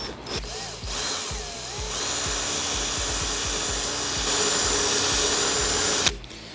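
A cordless drill whirs continuously as a 2.5mm bit grinds into a BMW E92's metal roof, loud and close, with a faint rhythmic chatter, then stops abruptly.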